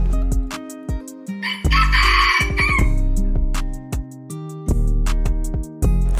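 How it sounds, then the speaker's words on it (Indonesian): A rooster crows in the morning, loud and close, with several drawn-out calls and clucks following each other through the whole stretch, and no voices. "ayam berkokok di pagi hari"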